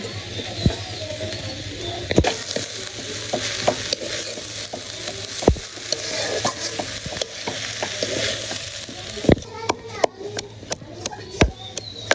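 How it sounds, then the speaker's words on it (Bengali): Garlic sizzling in a pan with leafy greens and small fish, a steady close fry broken by sharp utensil knocks and scrapes, growing more frequent near the end, with occasional faint background sounds. "এবার রসুন ফুটতে আছে"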